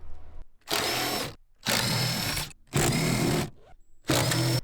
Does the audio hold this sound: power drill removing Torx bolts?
yes